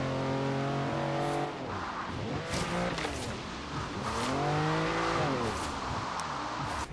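Lamborghini Countach LP5000 QV engine in Forza Horizon 3, roaring close and loud throughout, with revs sweeping up and down through gear changes and a brief screech of tires.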